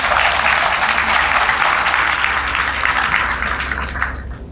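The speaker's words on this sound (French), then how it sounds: "je vous prie de bien vouloir les applaudir" Applause from a debate audience, a loud, dense and continuous burst of clapping from a large room that fades out at the end.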